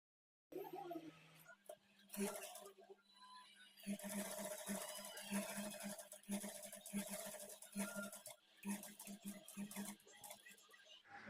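A sewing machine stitches the neck lining of a kids' peplum blouse in a quiet, fairly continuous whirring run with small pauses, heard faintly in a room where a person talks at times.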